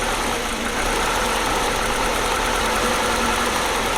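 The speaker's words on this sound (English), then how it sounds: "Right now it's idling at 1100 RPM and it will drop to 900," A car engine idles at about 1100 RPM while warming up, giving a steady, close, even hum with faint vibration and no talking.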